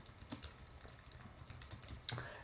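Someone types a web link on a computer keyboard, a few quiet, close key clicks scattered unevenly over a couple of seconds with no talking.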